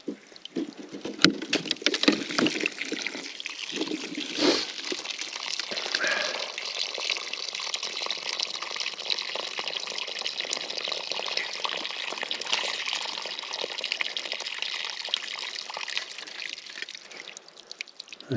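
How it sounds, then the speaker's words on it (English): Water running out of a buried water line in a dug trench, a steady splashing gush that holds fairly loud for the whole stretch after a few uneven bursts at the start. "A little water in the line. Should quit pretty quick."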